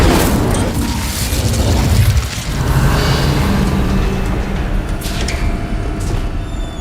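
Incendio fire spell cast in Hogwarts Legacy, lighting lanterns; a loud, sustained roaring whoosh of flame with rumbling bursts, close and steady throughout with no talk.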